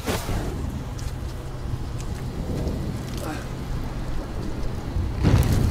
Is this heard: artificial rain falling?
yes